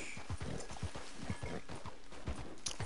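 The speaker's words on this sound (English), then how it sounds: "I hate this horse. This is the worst horse." Horse hooves clip-clop in steady, fairly loud beats as a mount plods along in Red Dead Redemption II, with a brief neigh-like sound blending into the game's background ambience; no talking.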